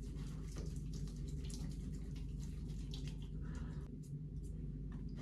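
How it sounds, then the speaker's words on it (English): Tap water runs steadily into a bathroom sink during face washing, a continuous close splashing wash with brief drips and shifts as hands move through the stream. "Let's wash my face"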